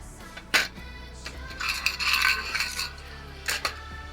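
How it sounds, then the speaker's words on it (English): Small metal screws rattle and clink as they are handled and driven into a graphics card in a PC build, with a few sharp taps and a brief scraping metallic jingle in the middle, close by and quiet. "time to screw the GPU screws back in"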